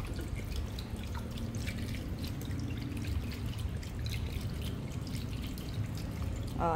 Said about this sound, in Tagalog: ngayon, lalagyan ko na siya ng tubig